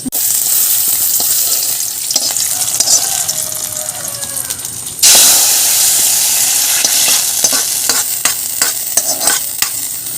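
Shallots, dried chili and curry leaves frying in oil with a steady sizzle, a ladle stirring and scraping, the hiss surging louder midway.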